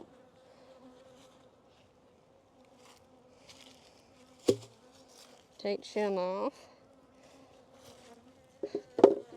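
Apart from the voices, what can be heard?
bees buzzing in an opened hive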